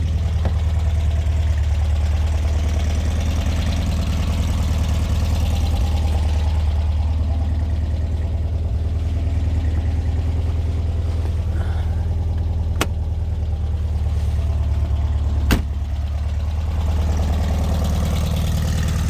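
A 1967 VW Beetle carbureted engine idles after a cold start, a steady low rumbling chug with slightly uneven knocking, close and continuous, with a couple of sharp clicks.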